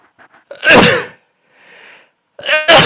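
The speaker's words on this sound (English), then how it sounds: "Hang on, I gotta sneeze." A single loud sneeze bursts out near the mic, with a quieter breathy sound in between and the start of another sharp burst at the end, with no talking.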